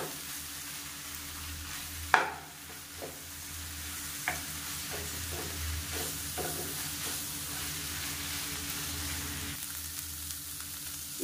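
Leaves sautéing in a pan for chutney give a steady, soft sizzle, with a sharp spatula knock early on and a few lighter scrapes and taps as they are stirred.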